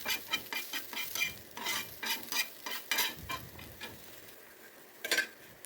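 Onions frying in hot oil on a dosa pan, heard as a close, quiet sizzle broken by a rapid run of scraping stirs and spatula taps, with a final cluster of scrapes near the end.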